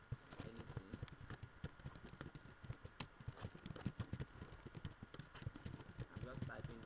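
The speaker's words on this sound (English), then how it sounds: "I'm just typing nonsense" Typing on a computer keyboard while writing nonsense text during an HTML basics web development lesson, a steady run of close, rapid clicks throughout with a person talking over it.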